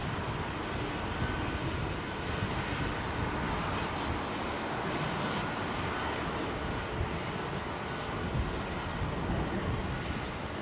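An airliner at London Heathrow roars through a go-around, its jet engines producing a loud, continuous, broadband rumble that stays steady throughout without voices.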